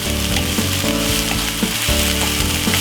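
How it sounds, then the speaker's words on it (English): Butternut squash spaghetti sizzles loudly and steadily in a hot pan for a vegan dish, with a spoon stirring through it and scraping the pan in a repeating rhythm. "Give it a quick stir"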